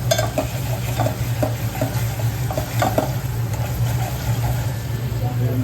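Four to five chopped onions fry with mutton in a pot, a continuous sizzle broken by stirring clinks and scrapes, with a low steady hum underneath.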